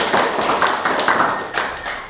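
Audience clapping at an Indonesian motivational talk on healthy living, a short burst of close, uneven hand claps with distinct individual taps standing out, loud and steady for about two seconds.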